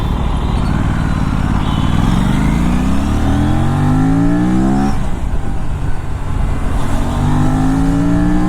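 A loud Aprilia RS 457 motorcycle engine revving up repeatedly above 6000 rpm, pitch climbing through the gears, then dropping and rising again, close and continuous.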